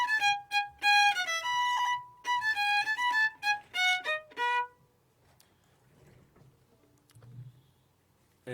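An instrument plays the ritornello melody from Vivaldi's Spring, bright and fairly close, in quick detached phrases for about five seconds before fading into a quiet room with faint ticks.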